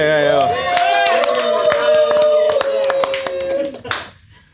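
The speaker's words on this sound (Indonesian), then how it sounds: "Boleh tepuk tangan buat Mamat Al-Kathiri" Audience clapping for a podcast guest: sharp, irregular hand claps run through the clip under a loud, sustained tonal voice or music that holds steady and then cuts off near the end.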